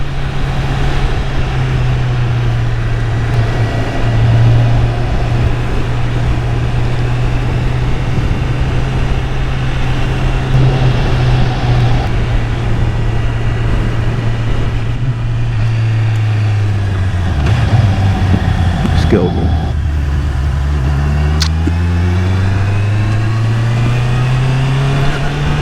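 Honda CBR650R motorcycle riding at steady speed, engine drone holding near-constant pitch before a quickshifter gear change drops the revs and they climb again, loud and close under wind noise.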